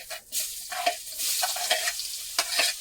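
Chopped onion frying in hot oil with black cumin and bay leaves in a home kitchen, a soft close sizzle broken by repeated scraping stirs of a spatula against the pan.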